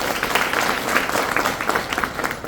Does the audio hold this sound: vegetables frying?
no